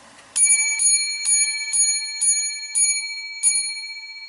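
Seven lucky bells rung again one after another in an even rhythm, each bright metallic chime close and clear, ringing on and overlapping as it fades, with no talking.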